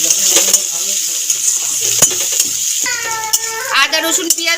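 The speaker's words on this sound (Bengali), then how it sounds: "আদা রসুন পেঁয়াজ দেখো ভাজা হয়ে এসছে" Ginger, garlic and onion frying in fish oil in a pan, giving a steady hiss and sizzle with stirring clatter throughout, and a voice speaking near the end.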